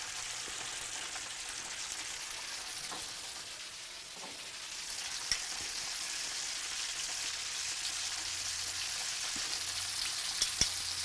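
Catfish fries in a cast iron skillet, giving a steady, soft sizzle and crackle of hot oil with a few faint pops.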